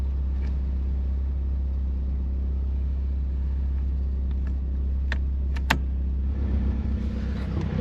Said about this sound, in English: So, we got it going, let it warm up.